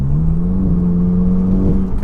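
A front-wheel-drive Seat Cupra making over 500 hp pulls away in comfort drive mode, its engine droning in a steady, loud, mildly rising hum heard from inside the car, with no sharp revving.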